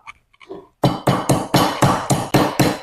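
Citric acid crystals for a cauliflower, carrot and turnip pickle are pounded in a mortar, a steady run of eight loud, heavy thuds close by after a brief quiet rustle, with no talking.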